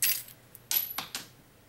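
Small gold metal keys clink and drop onto a hard surface in three brief, light metallic bursts spaced about half a second apart, with quiet between them.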